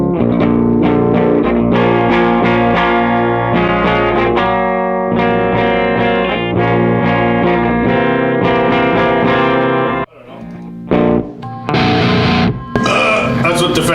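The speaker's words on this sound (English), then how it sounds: "So this is what the Fender sounds like." An electric guitar, loud and heavily distorted through a GCI Hellstache fuzz pedal into a Fender amp, plays sustained, gritty chords and notes, with a short break before a few final stabs.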